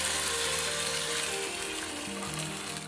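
Hot tempering poured into a turkey berry kara kuzhambu sizzles loudly and steadily, a dense crackling hiss that fills the moment without a break and fades only slightly toward the end.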